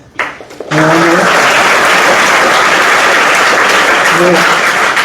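An audience at a Sanskrit conversation camp in Yadur bursts into loud, sustained applause after a brief quieter start, the dense clapping continuing steadily to the end.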